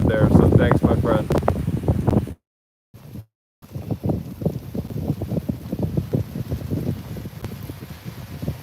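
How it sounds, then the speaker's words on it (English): Strong wind batters the microphone outdoors at sunrise on the coast at Playa del Carmen, a loud gusty rumble with a brief dropout in the middle, and a voice talks through parts of it. "it is pretty windy here right now, Howard."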